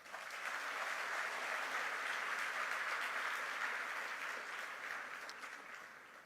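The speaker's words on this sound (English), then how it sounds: "Let's give them a good round of applause." A large audience gives a steady, sustained round of applause at a political stage event, distant and even, fading slightly toward the end with no talk over it.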